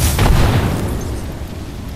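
A frag grenade detonates in the battle royale game Apex Legends, one loud booming blast with a deep low rumble that trails off over about two seconds, no voices over it.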